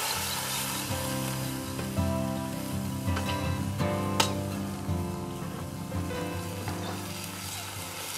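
Meat browning in a camp oven over a campfire sizzles and crackles loudly and steadily, with occasional stirring clatter, close up and without voices.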